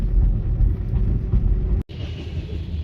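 A Ford Freestar minivan idles while stopped waiting for a train, a low, steady engine rumble with a brief dropout partway through, no talking.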